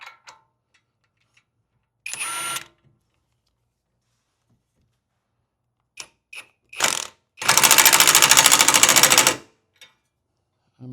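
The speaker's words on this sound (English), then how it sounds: "it allows this to spin while it sucks the stud in. I'll try this on low first." Power tool on an NC Miata hub pulling in a wheel stud, heard in short whirring bursts, then a steady buzzing run of about two seconds, close and loud among quiet pauses.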